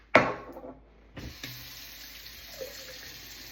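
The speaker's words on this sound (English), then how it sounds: "So I'm gonna go ahead and put some soapy water in here." Soapy water poured into a pot crusted with cooked candy: a sharp clank at the start, then a steady hissing stream of running water that keeps going at moderate level, with a faint knock partway through.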